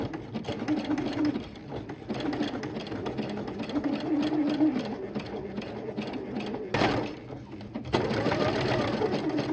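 A domestic sewing machine stitches stretchy jersey fabric for beginner-sewn underwear, its close, rapid mechanical whirr running in bursts with a brief pause near the end.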